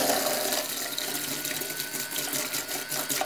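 A StylPro brush cleaner spins a makeup brush dunked in water, giving a steady close whirring motor hum with a watery churning and swishing that runs throughout.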